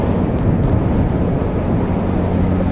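Wind rushing past while a motorbike is ridden on a dry, chilly day, a constant loud roaring buffet with a low rumble, no voices.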